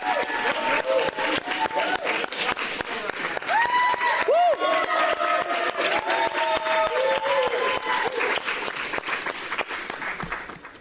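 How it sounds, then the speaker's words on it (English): Audience at a cryptocurrency conference in Mexico City bursts into loud, sustained applause with scattered cheers and whoops, dense clapping filling the room for about ten seconds. "I just want to stop everything and give Doug and Sunita a hand of applause for the fantastic work on the"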